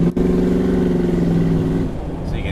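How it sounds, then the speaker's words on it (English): Car engine and exhaust fitted with really small mufflers, a steady, throaty rumbling idle heard close from beside the car, fading slightly toward the end. "It's got really small mufflers on it"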